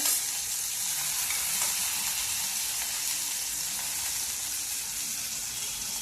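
Onion and tomato frying in ghee with cumin, a steady bright sizzle at close range, continuous and even with no voices.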